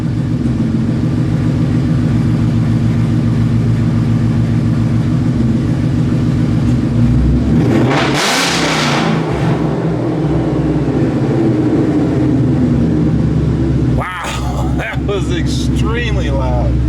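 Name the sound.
Whipple supercharged 2016 Mustang pops and bangs, no lift shifting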